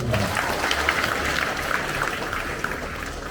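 An audience claps at a village finance meeting with a regional head, a brief, loud burst of close applause that holds steady before easing slightly toward the end.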